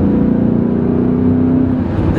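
A 400-horsepower naturally aspirated BMW E39 M5 holds a loud, steady engine note close up. The rich harmonic drone sustains evenly with a slight rise in pitch and no pauses.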